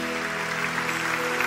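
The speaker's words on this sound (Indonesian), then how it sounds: "Berikan tepuk tangan." Congregation clapping during a church worship service, a steady wash of applause held under sustained music for the whole stretch.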